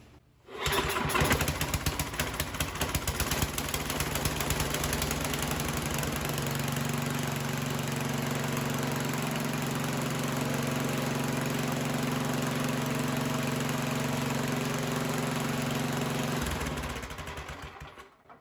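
A snowblower engine starts on the first pull of its starting handle, then runs at a steady, loud idle close by, shifting to a lower drone before shutting off near the end.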